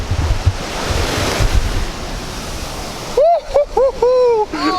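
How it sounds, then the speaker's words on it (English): Waves and wind at Camps Bay Beach in Cape Town roar as steady, loud surf noise for about three seconds, then quieter wind and surf continue beneath a person speaking. "We're back at Camps Bay Beach."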